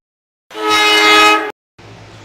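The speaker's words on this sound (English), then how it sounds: "This train had the most beautiful horn that I have ever heard." A New Jersey Transit train sounds its horn in one loud, sustained, chord-like blast of about a second, followed after a short gap by a softer, rougher rumble.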